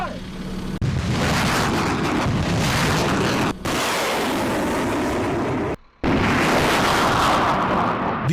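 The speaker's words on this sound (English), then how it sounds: "This is America's high-mobility artillery rocket system, HIMARS." An M142 HIMARS rocket artillery launcher fires, and a loud, sustained roaring blast runs for several seconds. It drops out in two brief gaps and then resumes, with no voices heard.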